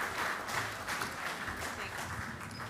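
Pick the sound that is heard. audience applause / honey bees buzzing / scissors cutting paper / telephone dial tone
audience applause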